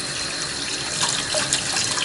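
Steady gush of water running from a homemade beer-brewing wort chiller under test, a continuous close splashing flow like an open tap with no voices.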